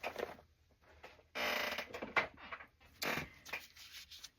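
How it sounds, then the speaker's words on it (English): A squeaky chair creaks in several loud, uneven bursts at close range, with quiet pauses between the strained squeals as it shifts. "Sorry for my squeaky chair."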